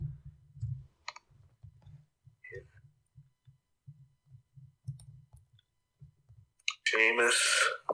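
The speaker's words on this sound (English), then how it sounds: "I'm typing in Sheamus Mania 24 photo" Keyboard typing during a WWE WrestleMania 24 review podcast: soft, irregular keystroke taps run in quick bursts through most of the stretch, and a voice cuts in near the end.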